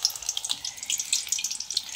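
Hadga flower fritters dipped in gram flour batter and dropped into hot frying oil, a steady bubbling sizzle with small pops, close and moderately quiet, no talk.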